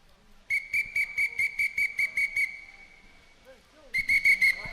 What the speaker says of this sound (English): whistle blows, halt the action